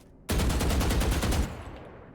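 Rapid automatic gunfire from a Valorant weapon shooting through a wall on the Bind map, a loud close burst of about a dozen evenly spaced shots that ends abruptly and leaves a short ringing tail.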